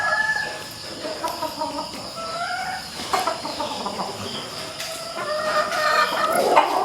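Imported Sweater gamefowl roosters cluck steadily with repeated crowing rising over them, several birds close by with no voices present.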